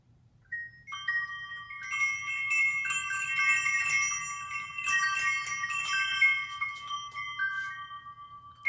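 Small hanging bells chiming and tinkling after being set swinging, many bright overlapping rings that ring on and decay, close and clear against a quiet background with no talk.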